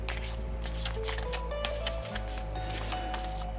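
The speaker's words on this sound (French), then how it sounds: "l'avantage de ces cartes, c'est que elles sont super agréables à mélanger." Crystal tarot-style cards being shuffled, a steady papery riffling and sliding that runs continuously at close range with no voice over it.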